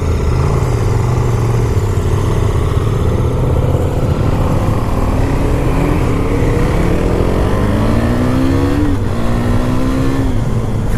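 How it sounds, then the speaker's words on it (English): A KTM Duke 390 motorcycle engine roars continuously up close, its pitch climbing and dropping through gear shifts as it accelerates. "it sounds like a proper motorcycle."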